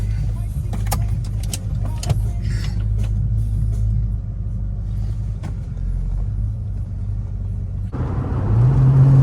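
A 1994 Ford Mustang GT 5.0 idles and rumbles at the start of a test drive, a low steady engine drone close by with small knocks and clicks, then a deeper, louder rise near the end.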